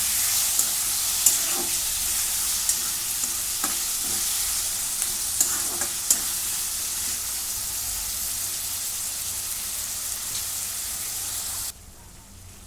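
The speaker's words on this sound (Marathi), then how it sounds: "टमॅटो टॅमॅटो पण चांगला भाजून घेतो" Tomato frying with browned onion in a pan, a loud continuous sizzle broken by repeated stirring scrapes and knocks in the first half, ending abruptly near the close, no voices.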